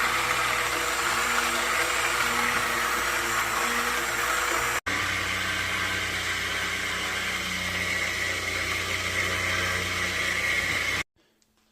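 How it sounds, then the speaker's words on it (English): Stick mixer puréeing roasted pumpkin soup in a pot, a steady loud motor whir running continuously before it cuts off near the end. "we're going to give it a stir with our stick mixer here till it's nice and smooth"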